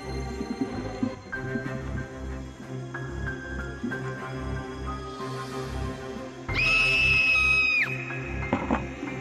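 A woman's scream used as a horror-story sound effect: a shrill, sustained cry bursts in loudly near the end, rising above a low, eerie droning background that carries thin tonal notes.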